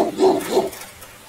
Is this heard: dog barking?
yes